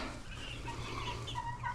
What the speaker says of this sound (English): And here's our chickens.